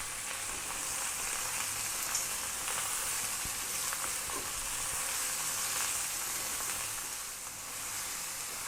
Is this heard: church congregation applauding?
no